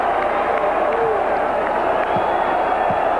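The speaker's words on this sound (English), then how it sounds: "This crowd is really into the game now" A packed basketball arena crowd roars steadily during a 1981 college game at UCLA with Oregon State, a dense continuous wash of cheering and noise with a commentator talking over it.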